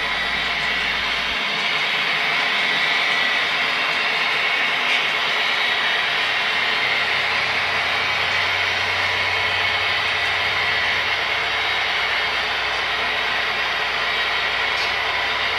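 A low, steady rumble of a Kansas City Southern freight train in a train simulator game, nearing Watts, Oklahoma, with a constant engine drone and faint rail noise throughout, no voices.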